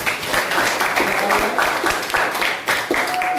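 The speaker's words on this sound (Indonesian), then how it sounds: "tepuk tangan untuk Jihan." Students applaud in a classroom for a correct answer in a math lesson, a dense, fairly loud round of clapping with scattered individual claps standing out, voices mixed in.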